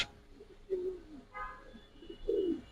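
Pigeons at a large farm holding many breeds, including Giribaz high flyers and foreign racers, give a few soft, low coos spaced across a couple of seconds, faint against quiet room noise.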